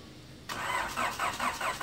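A Honda B18C Type R engine with a freshly ported head and new cams cranks and fires up, starting abruptly after a short quiet stretch, then running with rhythmic surges close to the mic.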